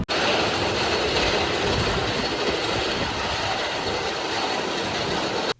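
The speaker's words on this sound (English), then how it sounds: "I'm gonna get some more rides on this amazing coaster" Railblazer roller coaster at a San Francisco Bay amusement park, its ride mechanism giving a loud, steady mechanical rattle and clatter that runs unbroken for about five seconds with no talking.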